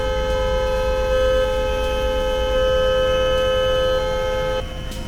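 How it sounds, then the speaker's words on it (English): Horn of a 2008 Dodge Magnum sounding in one long, loud, sustained steady blare that cuts off abruptly near the end. "There's the horn."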